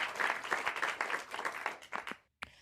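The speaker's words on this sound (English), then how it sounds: "Give me an applause if you have heard this before, right?" Applause from a crowd rattles along as dense, steady clapping, moderately loud, fading out near the end before a brief final burst.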